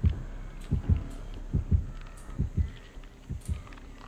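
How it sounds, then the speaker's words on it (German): The heartbeat warning in the survival horror game Dead by Daylight thumps in low, paired double beats at a steady rhythm, fairly loud and alone, with faint game ambience underneath. "Ich höre den Herzschlag."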